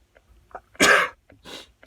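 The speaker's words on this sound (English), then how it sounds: "I'm about to start sneezing." A single loud sneeze bursts out with a sharp intake of breath before it, followed by a softer second sneeze-like exhale, close up and without speech.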